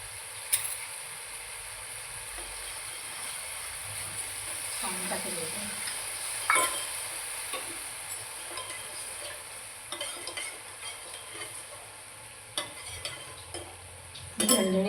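Spinach sizzles in a hot tempering in a pan, a steady hiss broken by occasional spatula stirs and clinks, close and moderate in level, with a voice murmuring faintly underneath.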